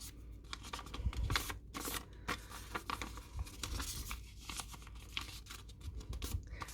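Paper rustles and crinkles up close as it is folded for a crystal grid, soft irregular crackles and scrapes over several seconds with no talking.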